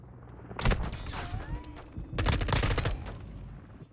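Bursts of automatic gunfire in the battle-royale video game PUBG, two loud clusters of rapid shots with a brief lull between, close and dense, overlapping thumps and crackling reports.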